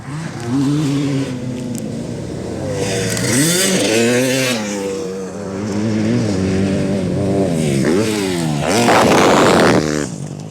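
Motorcycle with decent suspension ridden hard at a sports event, engine revving and rising and falling in pitch as it passes, loud and continuous with no talk.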